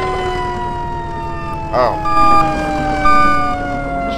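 A fire truck siren in the Roblox game Maple County wails steadily with a sustained, slowly gliding electronic tone, loud and close throughout; a voice gives a brief exclamation partway through.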